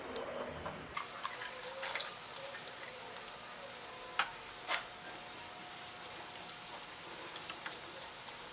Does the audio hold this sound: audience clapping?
no